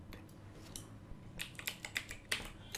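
Computer keyboard typing while entering a heading in an online T-shirt design tool, a run of quick, close clicky keystrokes in an irregular rhythm over faint background hum, with no talking.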